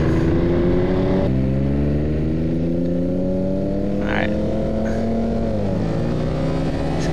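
A yellow car accelerates hard alongside a motorcycle on the road, its engine droning loud and steady with rising and shifting pitch, plus a gear change, under constant wind and engine roar from the bike.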